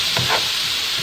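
Shrimp taco mix with scallions sizzling and frying in a hot pan, with a couple of soft stirring scrapes early on over a steady close hiss.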